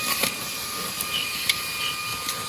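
A Wyze handheld cordless vacuum cleaner runs with a steady, fairly quiet whine and hiss, broken by a few short ticks and clicks as it picks up debris.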